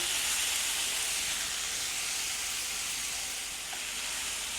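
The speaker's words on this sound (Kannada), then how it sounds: "ಇದು ಸ್ವಲ್ಪ ಒಂದು ಐದು ನಿಮಿಷ ಉರಿತೀನಿ" Mushrooms, onion and turmeric fry in oil in a pan, giving a steady, dense sizzle with a constant hiss that holds throughout, no voices.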